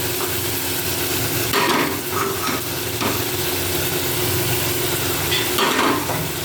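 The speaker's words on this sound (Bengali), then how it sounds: "তারপরে একটু নাড়াচাড়া করে ভেজে নিয়ে" Salt, turmeric, ginger, cumin and chili paste stirred and fried with potatoes and pointed gourd in a pan for a katla fish curry: a steady close sizzle with repeated spatula scrapes and stirring strokes throughout.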